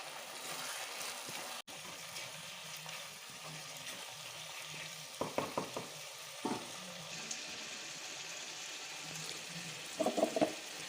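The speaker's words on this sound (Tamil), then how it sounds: "தக்காளி நல்லா வதங்கிட்டு இருக்கு." Tomatoes and green chillies sauté in a pan for a Chettinad country chicken curry, giving a steady soft sizzle throughout with a few brief clinks and stirring scrapes near the middle and end, no talking.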